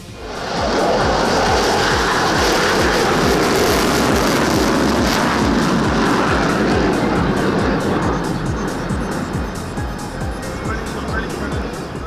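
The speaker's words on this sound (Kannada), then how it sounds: "ಸಾವಿರಾರು ಅಡಿ ಎತ್ತರಕ್ಕೆ ಹಾರಿ ದೇಸಿ ನಿರ್ಮಿತ ಸಾರಂಗ ಹೆಲಿಕಾಪ್ಟರ್ಗಳು ಪ್ರೇಕ್ಷಕರನ್ನ ರಂಜಿಸಿದ್ವು" Indigenous Sarang helicopters fly at the Aero India air show at an air base, making a loud, continuous rotor and engine roar with a steady low chopping pulse that holds for the whole stretch.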